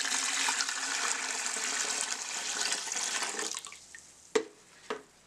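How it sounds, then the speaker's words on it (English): Eight liters of water poured in a steady, rushing stream to make brine for curing chicken ham, running continuously and then stopping, followed by a few sharp splashes and knocks. "I am adding 8 liters of water."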